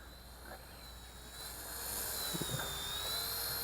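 The high, steady whine of an XK K127 Eagle 4-channel stabilized RC helicopter's motor hums throughout, rising slightly in pitch partway through, with faint wind in the background.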